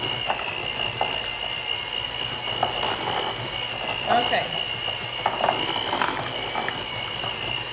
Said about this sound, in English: I'm just gonna blend these two together real quick